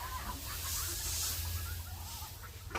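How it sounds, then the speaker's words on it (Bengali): Ducks and ducklings in a village yard give scattered soft quacks and cheeps over a steady outdoor background, with a sharper call at the very end. "কত হাঁস, হাঁসের বাচ্চা"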